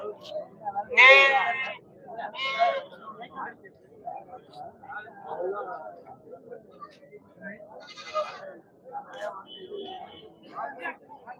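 Goats bleat at a Pongal special livestock market in Ettayapuram, several loud calls in short bursts standing out near the start and again later, with market chatter and people talking throughout.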